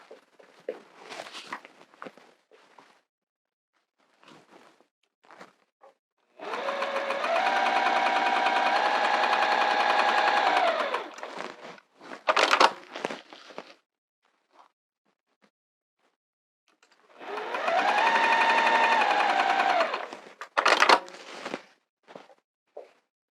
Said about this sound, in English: This is a weird way to sew.